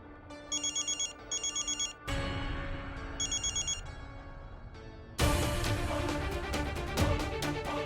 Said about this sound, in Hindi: अम्मा, कितना देर से फोन बजा था, उठावत काहे नहीं खूब?